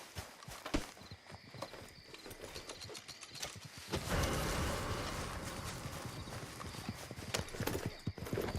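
Horse hooves gallop in the video game Red Dead Redemption 2, quick rhythmic clip-clops in front of a rising rush of movement and wind, fairly quiet with faint background voices.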